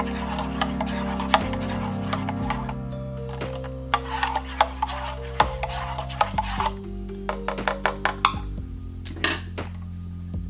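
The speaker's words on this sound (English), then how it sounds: "Stir it up" A spoon clinks and scrapes around a cup or mess tin, stirring a Russian ration milk drink in irregular close taps over a low background hum.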